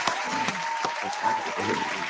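Applause from a crowd of a few thousand at an indoor event, a steady wash of clapping with a few sharper claps standing out, mixed with voices.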